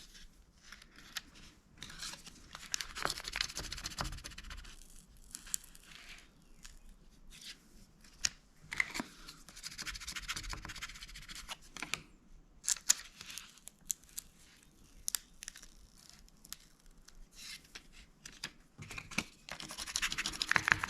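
Wet-applied vinyl decal transfer tape slowly peeled back as a Suzuki Cara accessory in a cool room around 45-50 degrees, giving soft intermittent scratchy rustles and tearing crackles, close and quiet, with no talking.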